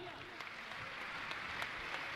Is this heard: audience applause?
yes